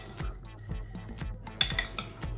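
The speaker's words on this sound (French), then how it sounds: "Je vais mélanger." Utensils stir a ginger salad in a bowl with a series of close, rhythmic scrapes and light clinks, steady and unhurried, with no one speaking.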